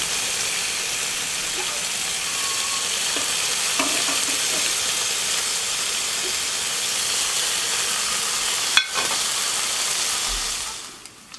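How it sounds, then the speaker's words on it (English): Burger buns frying in a pan with bacon, a loud, continuous hissing sizzle held steady for several seconds, close by, with one sharp clack near the end before the sound fades down. "we're going to fry our burger buns in it in a second"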